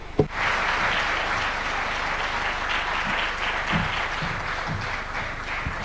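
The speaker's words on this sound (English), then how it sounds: "A warm, big round of applause for His Excellency." Sustained crowd applause for the French president at a formal Africa–France gathering, a dense steady wash of clapping lasting throughout, loud and continuous.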